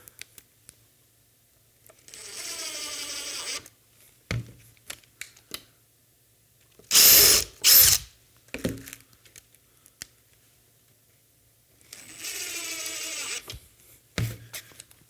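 Power drill driving screws into small bumper brackets during a bumper assembly, with two sustained whirring bursts separated by clicks, handling noises and a loud ratchety burst in the middle, close up with quiet gaps between.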